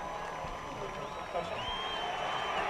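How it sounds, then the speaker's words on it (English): A football crowd roars after a touchdown at a 2010 Trojans vs Titans night game, a steady, broad rumble of cheering and applause heard from just below, with a commentator talking over it. "Hear the crowd roar right underneath us."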